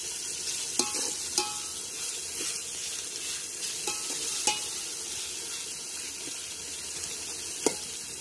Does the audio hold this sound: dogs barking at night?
no